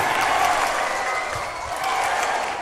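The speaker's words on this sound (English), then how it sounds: "And then when you like what you hear and see, we cheer." An audience at a children's orchestra concert applauds and cheers steadily, a dense wash of clapping that holds for a few seconds without a break.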